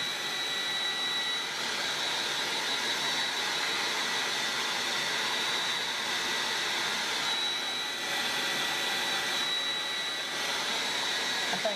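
A hair dryer blows steadily on a chalk-painted sign, a constant whooshing airflow with a faint high whine that holds close and even throughout with no talk.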